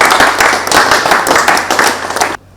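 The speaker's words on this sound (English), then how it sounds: "Please, let's clap for Mr." A crowd claps for the governor at a NAFDAC event reopening the Onitsha drug market, a dense burst of applause that stays loud for about two seconds and then stops abruptly, leaving near silence.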